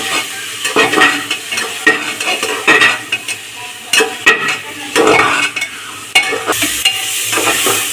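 Spices are stirred into vegetables frying in oil for sambar, with a spoon scraping and clinking against the pan in busy bursts over a constant loud sizzle.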